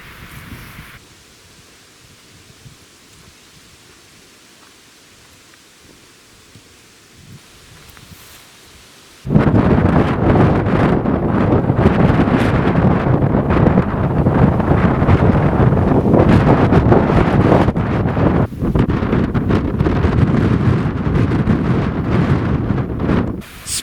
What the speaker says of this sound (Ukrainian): Який вітер, який вітер?